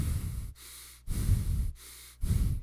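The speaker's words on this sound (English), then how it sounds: "this can become that heavy breathing type of thing if you have it too close" Heavy breathing pressed right against a headset microphone: three loud, rough exhales alternating with softer inhales in a slow, even rhythm, close and muffled.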